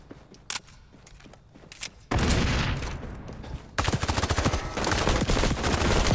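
Sustained automatic gunfire from a first-person shooter match in XDefiant, with an MP5 submachine gun in play, starting as scattered shots and swelling into loud, continuous fusillade bursts after about two seconds.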